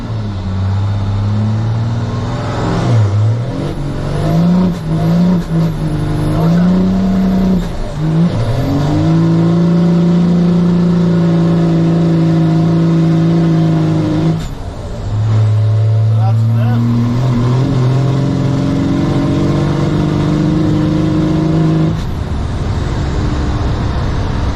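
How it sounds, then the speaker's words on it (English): A 600 hp 12-valve Cummins diesel drift truck accelerates hard toward a corner, its loud, close engine note climbing through long pulls with a short dip between gears. "We'll see if it'll drift this corner."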